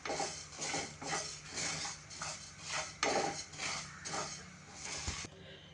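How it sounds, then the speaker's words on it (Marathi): Coriander seeds dry roasting in a hot pan over medium heat, a steady rattling and scraping of seeds and utensil against the metal in repeated bursts, moderately close and unaccompanied by talk. "सुरुवातीला मी धने घेतलेले आहेत. मध्यम आचेवरती आपण हा मसाला भाजणार आहोत."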